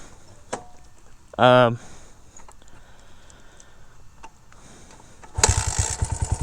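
A Honda CRF 80F dirt bike kicked over, catching with a short loud burst, then a quiet spell before the small engine settles into a near, rapid, pulsing idle.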